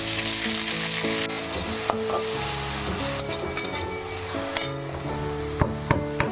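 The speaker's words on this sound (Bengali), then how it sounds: "তারপর এই শাকগুলো দিয়ে দিলাম" Leafy greens frying in hot ghee in a wok give a steady, close sizzle with occasional stirring clinks and scrapes of a utensil against the pan, no voices.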